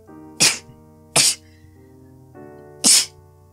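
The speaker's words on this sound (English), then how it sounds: "I always sneeze 3 times, but whatever." Three sharp sneezes from one person, close and loud, spaced about a second apart with a longer pause before the last, over a quiet steady background hum.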